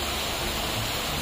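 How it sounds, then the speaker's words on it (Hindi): Fast-flowing water rushing steadily and loudly at close range, a continuous broadband roar like a strong outdoor stream or gushing outflow, with no pauses and no talking. "अरे पानी आ रहा है यहाँ भी, बहुत तेज बह रही।"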